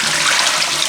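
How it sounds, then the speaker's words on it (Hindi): Tap water pours loudly into a bowl of fish pieces being washed for a curry, a close, steady hissing splash that runs without a break, with no talking. "और इसको पानी से भर लेते हैं।"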